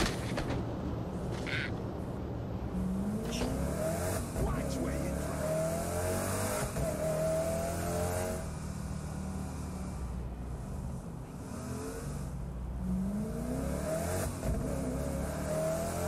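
A stolen car in the Saints Row: The Third video game revs and accelerates, its engine droning with tire squeals, under game dialogue and other sounds.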